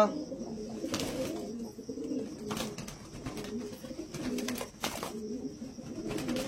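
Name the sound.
Jira-type pigeons cooing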